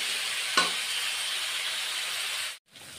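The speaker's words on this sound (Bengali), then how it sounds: "আলু ফুলকপি ভেজে নিচ্ছি।" Potato and cauliflower pieces fry together in a pan for a fish curry, giving a steady close sizzle with a brief stirring scrape early on and a short drop to silence near the end.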